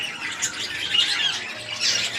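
Several pet birds squawk and chatter busily inside an enclosure, a dense, steady run of harsh high calls heard up close, with no voices.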